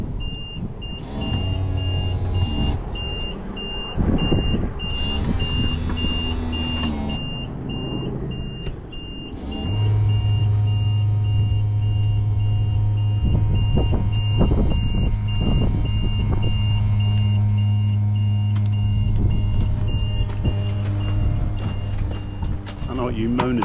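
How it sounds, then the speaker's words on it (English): A caravan levelling system gives repeated loud electronic beeps in steady pulses over a low motor hum, then the hum grows louder and continues with clicks and a voice speaking. "That beeping's a bit loud"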